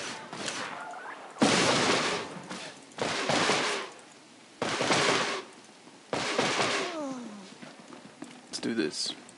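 Blaster gunfire in the video game Star Wars: The Old Republic, loud bursts of shooting in several separate volleys with sweeping laser-like tones, heard while players talk over the game.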